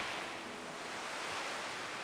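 Ocean waves wash continuously in a visual novel game, a soft, even surf roar with no distinct breaks, heard alone at low volume.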